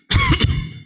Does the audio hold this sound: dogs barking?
no